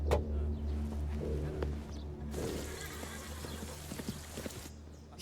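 A wild, unruly horse gallops with steady clip-clopping hooves and gives a loud whinnying neigh near the start, in a historical film scene with background score.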